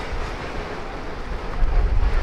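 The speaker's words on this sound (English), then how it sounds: "Quite windy." Steady wind roars and buffets at the port in Oslo, Norway, a broad rushing noise that swells into heavier gusts near the end, with no talking.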